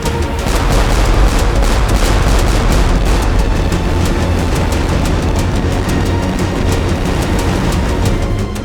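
Cannon fire from French warships in a naval battle at the Nile, heard as a dense, continuous roar of booming with no clear gaps between shots. The rumble is loud and heavy and stays steady throughout.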